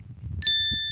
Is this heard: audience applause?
no